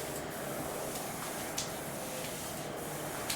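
An airbrush sprays a thin base coat onto a model train at 15 psi, making a soft continuous hiss with a couple of faint clicks, alone without talk.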